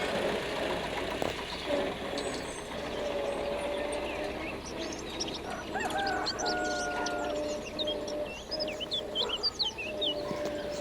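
Birds sing in a vegetable garden where peas and small courgettes grow, with chirps and whistles scattered through the clip over a steady low hum and some clucking, moderately loud and without talk.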